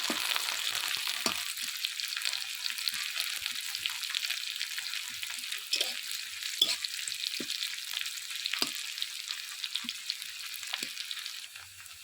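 Onions frying in a pan until browned, a soft, even sizzle with scattered faint clicks of stirring throughout, fairly quiet and with no voices.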